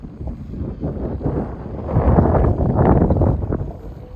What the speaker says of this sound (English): to be fair, it was a super windy day today